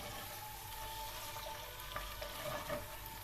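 Steady, faint sizzling of diced beef frying in a pot, with occasional scraping taps of a spoon stirring.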